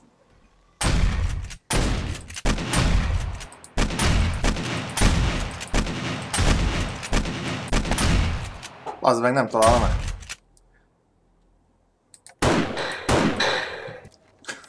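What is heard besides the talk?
echoing gunshots in the video game 7 Days to Die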